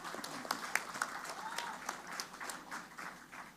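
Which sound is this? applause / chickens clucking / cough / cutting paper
applause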